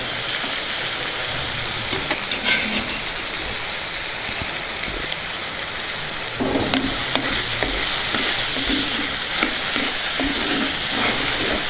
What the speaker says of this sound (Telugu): ముందుగా ఉడికించి పెట్టుకున్న శనగపప్పును కూడా ఇందులో వేసేసుకుందాం.